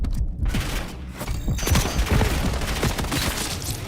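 Gunfire in a competitive Call of Duty match, dense rapid shots and impacts layered with game sounds in a busy, loud stretch without commentary.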